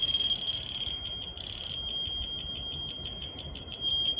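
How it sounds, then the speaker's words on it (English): A grade receiver emits rapid, steady high-pitched electronic beeping over a quiet background hiss, with no talking. "fast beep tells us to go down, slow beep tells us to go up."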